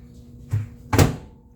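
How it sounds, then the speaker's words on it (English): A microwave door thuds shut: a soft knock followed by a louder, sharper close, both near and brief. "Close my microwave."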